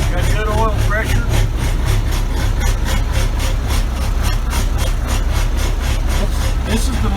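A Massey Ferguson 1105 tractor runs steadily after a cold start, its diesel engine chugging loud and close in an even, rhythmic throb that holds for the whole seven seconds.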